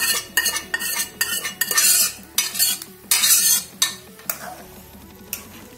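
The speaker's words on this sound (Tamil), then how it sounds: "இப்போ நல்லா கொதிச்சிட்டு இருக்குது" A pot of goat trotter curry bubbles and sizzles while a utensil repeatedly scrapes and stirs against the pot in uneven strokes.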